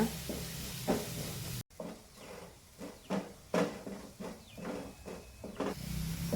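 Onions and curry leaves fry in a hot pan with a steady hiss and sizzle, broken by sharp clinks and scrapes of stirring at irregular intervals, close up and with no one speaking.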